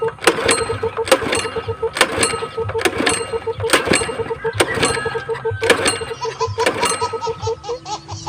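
An old engine, about fifteen years old and flooded, coughs and sputters in repeated bursts about once a second, turning over but never catching, loud and close.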